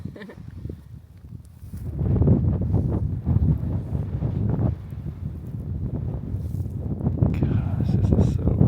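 Strong wind on the mountain summit of Huckleberry Knob in the Nantahala National Forest buffets the microphone with a loud, continuous low roar that swells and eases over several seconds.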